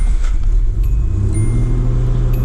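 A classic car engine starts and settles into a steady, loud, low rumbling idle close by, with a few faint clicks and taps over it and no talk.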